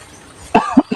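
Three sharp coughs sound close up, one right after another, against a quiet background.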